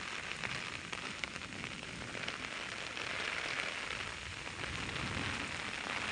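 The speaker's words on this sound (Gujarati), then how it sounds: "જે ધડાધમ જોરદાર વરસાદ વરસી રહ્યો છે" A fast, heavy downpour drums steadily and loudly, a dense unbroken roar of falling water with no voices.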